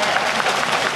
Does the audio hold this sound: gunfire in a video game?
no